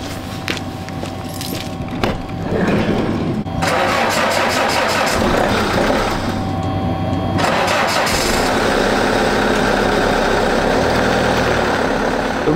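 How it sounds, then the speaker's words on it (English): A diesel camper van on a freezing winter day in Austria cranks and fires up after its glow plugs warm, the starter churning for a few seconds before the engine catches and settles into a loud, steady, rough idle close by. "The reason the van didn't start the first time, it's a diesel, so you have to wait for the glow plugs, I believe, to warm up on cold days"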